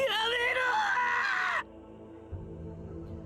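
A woman shrieks as her neck is sliced open in Chaos;Child, a loud, shrill, wavering scream lasting about a second and a half before it cuts off abruptly, leaving a low, quiet rumble.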